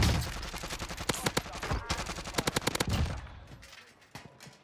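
Rapid bursts of automatic gunfire in Call of Duty Cold War Warzone, loud and close, with clustered shots and brief pauses before the firing trails off.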